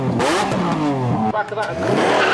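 A Ferrari's 6.5 litre V12, fitted with a £50,000 exhaust, revs at a supercar weekend rev-off at Beaulieu, rising and falling in loud, close, rasping sweeps while a voice speaks over it.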